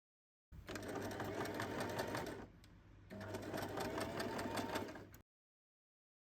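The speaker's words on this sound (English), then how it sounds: "We are top stitching it 2 millimeter from the edge and another top stitch half a centimeter" Sewing machine top stitching fabric 2 millimetres from the edge runs in two steady mechanical bursts of rapid rhythmic clatter. A short pause separates them, close up, with no talking.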